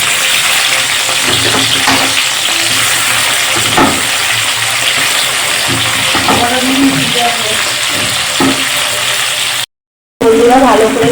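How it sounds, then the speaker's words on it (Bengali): Potato pieces frying in a pan of hot oil for a Bengali home recipe give a steady, close broadband sizzle, with a voice talking over it before a brief gap near the end. "ভেজে নিচ্ছি আলুটা একদম নরম করে"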